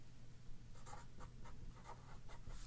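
Pen or pencil writing out a math problem by hand, a steady series of faint scratching strokes in a quiet room over a low background hum.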